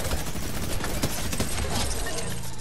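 Rapid bursts of AK assault rifle fire in the Fortnite video game, a dense continuous volley of cracks under busy game noise, loud and close.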